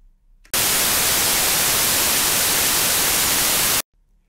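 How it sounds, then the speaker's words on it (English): White noise test signal in a mix-levelling session: a bright, loud, flat hiss that switches on abruptly, holds steady for just over three seconds, then stops dead. "Now, if I switch this to white noise"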